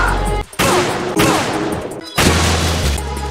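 Loud sniper rifle fire in the video game Metal Gear Solid, with a few heavy booming shots, each followed by a long rumbling tail, set against loud game ambience.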